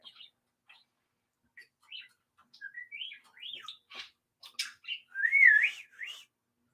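Someone whistles a string of short chirpy tones and warbling slides imitating R2-D2's beeps, rising and falling in bursts with small pauses.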